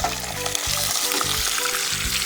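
Half a kilo of pork sizzles loudly and steadily in a hot pan, a dense, continuous frying hiss with no talk over it.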